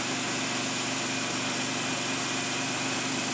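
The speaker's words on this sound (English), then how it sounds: "I'm going to stop the machine very shortly. As soon as that reamer gets out." Emco F1 CNC milling machine running steadily while reaming a control arm assembly, a loud, continuous high-pitched motor whine with a steady hum, close and unbroken.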